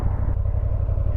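A 2024 Honda Transalp XL750 adventure motorcycle on the ride down a mountain, its engine giving a steady, low, close rumble with no talk over it.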